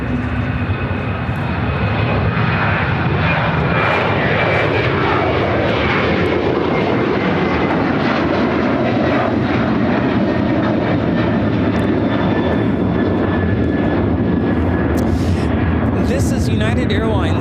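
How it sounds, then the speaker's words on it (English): A United Airlines Boeing 737-900ER takes off from Chicago O'Hare, its engines roaring loud and broadband for the whole stretch, a continuous rumbling jet blast with faint whining tones, with a voice talking underneath. "This is United Airlines 1882 taking off to Denver on the 737-900ER."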